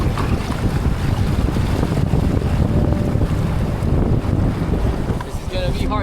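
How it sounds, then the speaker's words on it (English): A strong north wind buffets the microphone on a lake while a small boat is rowed, giving a continuous loud roar with water sloshing and faint creaks underneath. "The wind from the north is killing me right now."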